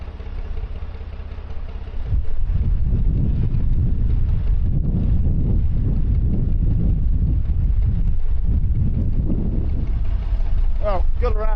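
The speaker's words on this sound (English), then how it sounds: "Not helped by all this wind." Strong wind buffets the microphone along the Oxford Canal, a loud continuous low rumble that gusts from about two seconds on and holds steady to the end.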